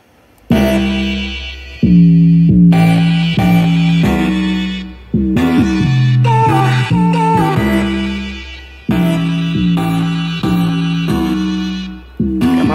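A loud sampled beat made with FPC hits in repeating phrases with heavy bass notes, each chord stab ringing out and decaying, with no voices.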